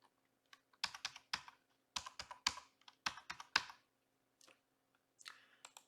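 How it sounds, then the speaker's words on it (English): A password typed on a computer keyboard for a website registration, heard as quick bursts of crisp key clicks in uneven clusters with short pauses between them, close to the microphone in a quiet room, with no one talking. "Now I have to type in my password."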